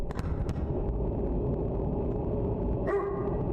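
A few short barks from the dog Gunpowder in a point-and-click horror mystery game. Quick yaps come near the start, another later, all fairly faint over a low steady background hum.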